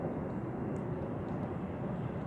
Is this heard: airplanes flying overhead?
yes